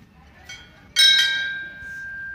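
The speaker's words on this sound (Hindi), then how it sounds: "अभी चल फिर से भाई घंटे बजा दे" A temple bell at Jagannath Temple in Bokaro rings once with a bright, sharp strike, followed by a long ringing decay that stays clear and near, after a softer tap just before it.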